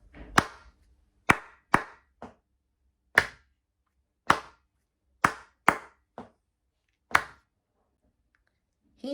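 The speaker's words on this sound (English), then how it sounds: "Number 2, I'll be clapping it 4 times" Bare hands clap out a rhythm for a dictation exercise: a series of sharp, dry claps with uneven spacing and a gap where a rest falls, close and clear against silence.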